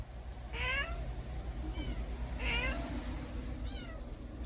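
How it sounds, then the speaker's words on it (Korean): Several cats and kittens, including a yellow cat and a spotted cat, meow faintly in short, separate calls, a few seconds apart, over a low steady background rumble. "노랑이도 있고 얼룩이도 있고 새끼 고양이도 있습니다"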